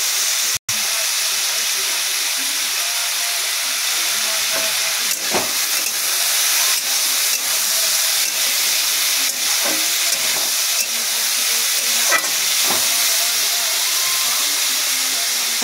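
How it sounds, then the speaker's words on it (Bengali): Potatoes with salt frying in a pan give a steady, close sizzle and hiss throughout, with occasional sharper crackles and pops rising above the constant frying noise. "আলুটা এখন ঢেকে দেবো, ঢেকে ভেজে নেবো।"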